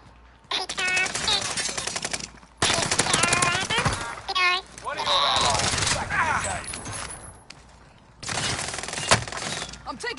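Bursts of rapid automatic gunfire in a video game, loud and close, broken by short pauses and mixed with voices of players talking over the action.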